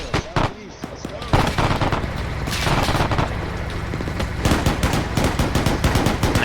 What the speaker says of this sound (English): There's that 50 firing back.